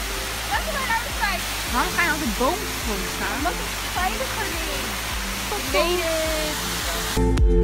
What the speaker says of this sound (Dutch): we zijn bij de waterval in de buurt